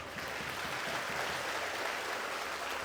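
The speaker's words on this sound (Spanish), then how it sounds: "Denle un fuerte aplauso al Señor Jesús" Church congregation applause after a sermon, a dense, steady wash of clapping at fairly low level, continuous and even throughout.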